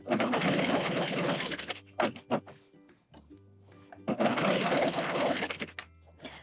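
A Husqvarna Viking coverstitch machine sews a hem in two loud, fast bursts of rapid stitching, with quiet clicks and brief handling noises in the pause between them.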